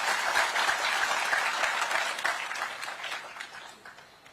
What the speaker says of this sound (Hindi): जोर से ताली मारिए।